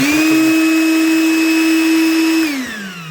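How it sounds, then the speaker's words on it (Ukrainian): A ProCraft LK30 cordless battery-powered deflator runs with a steady, loud motor whine that holds level for about two and a half seconds, then drops in pitch as it winds down. "Це вже дефлятор у нас. Він прямо зразу включив і зразу робить."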